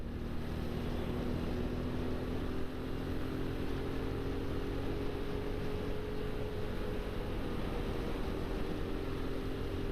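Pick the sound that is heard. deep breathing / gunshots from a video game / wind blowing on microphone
wind blowing on microphone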